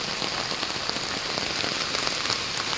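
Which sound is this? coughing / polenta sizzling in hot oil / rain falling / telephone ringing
rain falling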